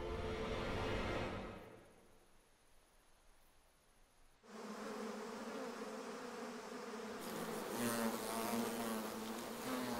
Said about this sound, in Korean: 꿀벌들의 거센 저항에 밀리기 시작하자 장수말벌들이 전열을 가다듬습니다.